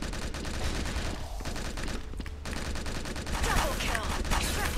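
Automatic gunfire in the shooter game Truy Kích, with continuous dense bursts at moderate loudness, a brief lull near the middle, then heavier firing toward the end.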